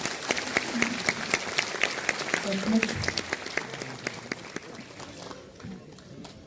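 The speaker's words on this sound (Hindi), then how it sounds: "सबसे पहले तो हमारे बड़े प्यारे कलाकारों के लिए जोरदार तालियां बजाएं।" A school event audience applauds performing student artists. The clapping comes as scattered, sharp individual claps, moderately loud, over a murmur of talk, and thins out near the end.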